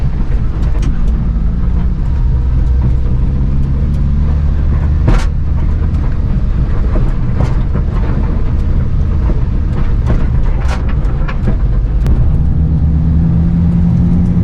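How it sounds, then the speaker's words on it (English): Steady, loud low rumble of new DOT tires on the road inside a moving plow truck, with occasional bumps and rattles cutting through the drone. "tires are definitely still loud, but not nearly as bad as they were before"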